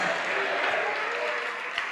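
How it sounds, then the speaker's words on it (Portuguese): Church congregation applauding during a worship service, a dense, steady wash of clapping from many hands that keeps going throughout, with faint voices mixed in. "Vamos aplaudir mais, vamos aplaudir mais."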